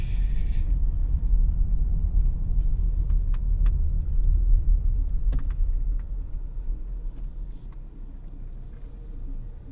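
A 2024 Audi Q3 Black Edition 35 TFSI rolls along and slows to park, heard from inside as a steady low road and engine rumble easing slightly toward the end, with a few faint clicks.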